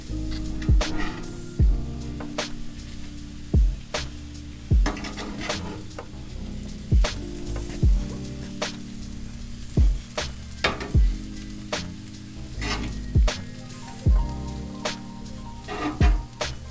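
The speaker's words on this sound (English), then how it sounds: "Now we're going to add our more vegetables." Vegetables sizzle on a hibachi griddle while a metal spatula stirs and scrapes them, sharp clanks repeating about every second over the continuous frying hiss, with no one speaking.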